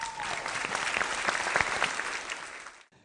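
An audience applauding after a round of a televised couples game show, a dense burst of clapping from a crowd that swells and then fades out near the end.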